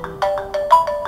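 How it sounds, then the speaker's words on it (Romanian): A phone alarm ringtone plays loud and close, a rapid repeating electronic tone pattern pulsing about five times in a second, with no voices over it. "Telefonul, alarmă"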